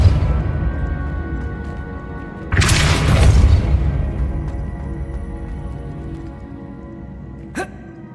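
A Depulso spell cast in Hogwarts Legacy lands as a loud, close booming blast that swells and rings out over several seconds, followed later by one short sharp crack.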